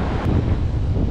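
Sea waves and wind at a beach make a dense, loud roar with heavy wind buffeting the microphone, continuous and close, with no voices.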